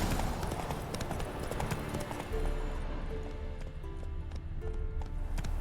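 A horse gallops in a video game with rapid, steady hoofbeats over a dense, continuous game soundscape, loud and close throughout.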